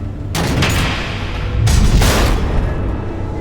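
Missiles explode in the Batman: The Enemy Within video game, two heavy booming bursts about a second apart that roll into a rumbling wash with no speech over them.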